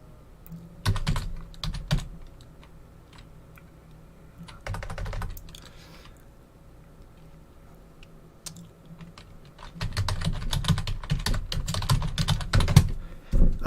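Typing on a computer keyboard in quick bursts of clacking keystrokes, with a short flurry early, a pause, and a longer dense run of keys near the end, fairly close and alone.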